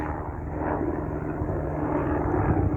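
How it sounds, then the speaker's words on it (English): A helicopter passes overhead in a busy area near an old rail line turned nature trail, giving a loud, steady, close rotor and engine roar that fills the whole stretch without letting up. "Yeah, helicopter."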